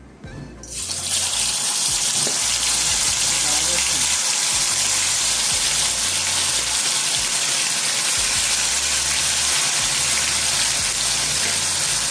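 Korameenu (snakehead murrel) fish pieces, soaked beforehand, dropped into hot oil for a Godavari-style fry, giving a loud, steady, broadband sizzle that starts after a brief quiet moment and holds constant throughout.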